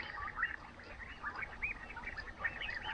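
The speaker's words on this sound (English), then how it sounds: "First little bit of light's creeping out, and the birds have woken up and going a little bit mad down there." Many birds call and chirp busily at first light around an Etosha waterhole in Africa, a steady overlapping chorus at moderate distance with no voices.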